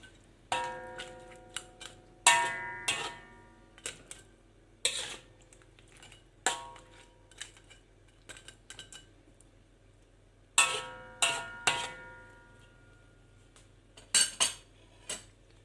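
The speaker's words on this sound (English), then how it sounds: "And stir." Spoon clinks and scrapes against a metal pot while red claw crayfish curry is stirred, giving irregular bursts of sharp metallic taps with short pauses between them, close and fairly loud.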